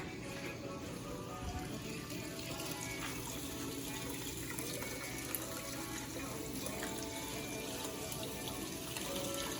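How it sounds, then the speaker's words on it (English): Hot well water drawn from about 190 feet underground runs from a kitchen sink tap, a steady, close splashing stream filling the basin without pause. "for those people watching the water come out of the sink"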